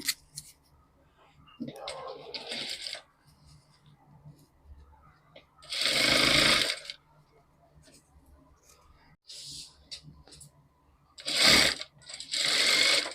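Short bursts of a sewing machine stitching folded fabric for goat piping, run in brief spurts separated by quiet pauses with small handling clicks between.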